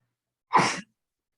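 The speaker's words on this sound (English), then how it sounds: "I'm gonna sneeze." A single sharp sneeze from a person in a quiet kitchen setting, one short burst with a quick breathy onset, heard alone against silence before and after.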